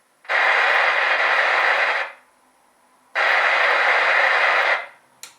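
An old radio receiver with its squelch threshold set too high picks up local noise, giving two loud, steady bursts of static hiss separated by a near-silent gap.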